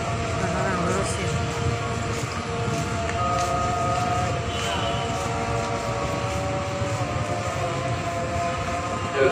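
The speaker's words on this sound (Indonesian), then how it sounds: "Jalur 7 dari arah timur kereta api melintas langsung." A train passes straight through a station on track 7 as a steady, loud rumble runs the whole time, with an announcer's voice and other talk over it.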